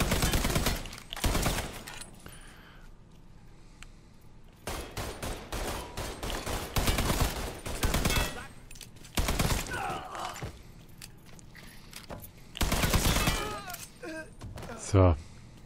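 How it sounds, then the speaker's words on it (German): Rapid gunfire from guards rattles in bursts in Mafia III, with loud broadband volleys near the start and middle and again toward the end, mixed with voices and game sounds between. "die Wachleute ballern uns über den Haufen"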